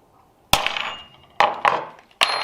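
A hammer strikes a metal center punch to mark a drilling point, giving four sharp, close metallic taps at uneven intervals, each ringing briefly before fading, with no talking.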